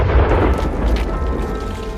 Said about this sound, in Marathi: गुहेबाहेर पडतानाच पाठीमागे त्या गुहेचा एक विध्वंसक स्फोट झाला.